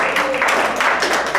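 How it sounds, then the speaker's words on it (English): Meeting attendees clap together in a room, a steady wash of close, fairly loud applause that runs unbroken through the moment. "So the clapping was pretty unanimous"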